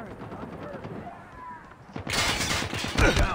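Gunfire in Call of Duty: Mobile, a few sharp close shots cracking out near the end after a quieter stretch with game voices.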